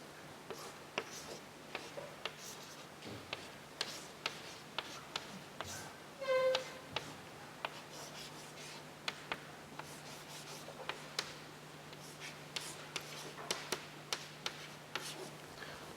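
Chalk or marker strokes on a board during a physics lecture on polarization, a steady string of short taps and scratches at moderate volume, with a brief squeak midway and faint room noise behind.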